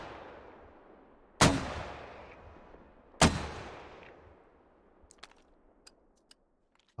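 Two heavy mortar rounds fire in the video game Squad, each a sharp loud boom with a long rolling echo that fades out, followed by a few faint clicks and light handling sounds.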